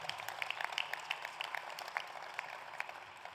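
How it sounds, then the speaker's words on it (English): Scattered audience applause at a steelworks visit event, thin and moderately distant, with sharp individual claps standing out over a soft wash of clapping. "yeah, you can applaud that"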